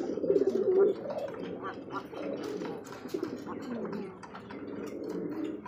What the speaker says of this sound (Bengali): দেখতে পাচ্ছি চমৎকার একটা কিন্তু ঘিয়াচল্লি কবুতর